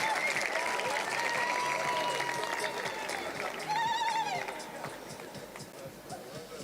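Crowd applause at a high school capping ceremony for the Sharks, dense clapping with cheers and whoops mixed in, tapering off toward the end.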